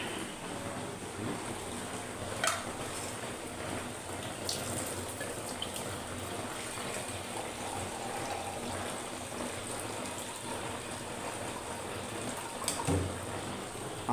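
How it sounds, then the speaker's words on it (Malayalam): Water is poured into a homemade fish curry simmering in a pan, a steady, continuous gushing pour running about fourteen seconds at moderate level, with no talking. "ശേഷം കുറച്ച് വെള്ളം ഒഴിക്കുന്നതിനകത്തേക്ക്."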